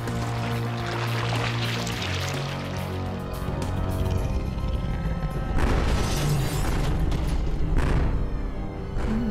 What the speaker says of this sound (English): The explosions can't penetrate the creature's hide.